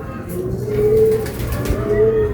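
Racing pigeons during a fun race, giving two soft, low cooing calls close by over a steady outdoor background rumble.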